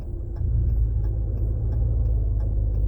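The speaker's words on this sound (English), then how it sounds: "You actually do get to hear it downshift a little bit more than you did with the factory muffler." A 2019 Ram 1500 pickup with a 5.7 HEMI V8 and a muffler-delete exhaust cruises with a steady low exhaust drone and rumble, close and continuous, with faint ticking above.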